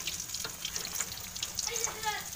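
Banana blossom patties fry in a pan, giving a steady crackling sizzle with small bursts of spattering, moderately close, with a voice heard faintly in the background.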